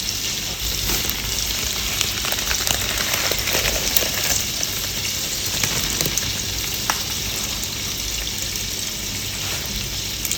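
Meatballs frying in a pan give a steady, close, dense sizzle and crackle for the whole stretch, with a few faint pops and no voice.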